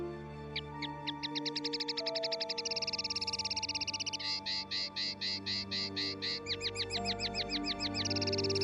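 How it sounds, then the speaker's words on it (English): A linnet sings outside a window, a bright, close run of rapid repeated chirps and trills that shifts phrase every second or two over a soft, sustained musical backing. "It was really only a little linnet singing outside his window"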